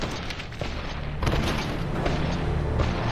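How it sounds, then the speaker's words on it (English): Gunfire in the video game Fallout New Vegas makes a dense, loud barrage of booming shots and blasts over a constant rumble, with a few sharper reports standing out. "What the hell are you shooting at?"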